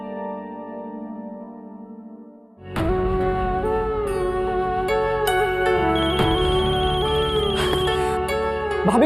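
A mobile phone rings with an incoming call, a melodic ringtone starting abruptly after a quieter musical passage and then playing loudly and continuously, close by.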